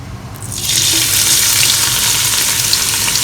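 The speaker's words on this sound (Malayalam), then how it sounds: "ആദ്യം നമുക്ക് ഉള്ളി ഇതിലേക്ക് ഇട്ട് കൊടുക്കാം" Onions dropped into hot oil in a rice pot for Malabar fish dum biryani, a sudden loud hissing sizzle that bursts up after a quiet start and holds steady and close.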